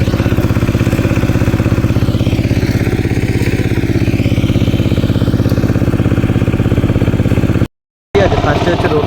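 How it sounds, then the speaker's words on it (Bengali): Power tiller pulling a rotavator through a field, a loud, close, steady chugging engine with fast rhythmic clatter, briefly cut out near the end, with someone talking over it. "একদম গাড়িটা যাচ্ছে, গাড়ির সঙ্গে হালও হচ্ছে প্লাস ময়ও হচ্ছে"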